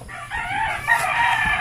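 A rooster crows among chickens, a loud, sustained call lasting over a second, close by, with the flock clucking softly underneath and no talking.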